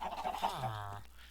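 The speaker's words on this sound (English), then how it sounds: "we might as well feed these chickens again" A Minecraft chicken gives a single short, near, fairly loud squawking call with a falling tone, heard alone.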